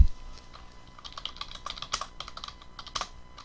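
Typing on a computer keyboard: a steady run of quick, close key clicks with irregular rhythm, fairly quiet and with no voices.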